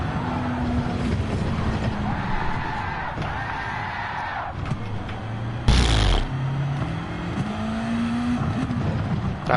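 Racing car at Monza track day, engine droning steadily while the tyres scrub and squeal through a corner, with a loud burst midway and the engine note climbing again afterward.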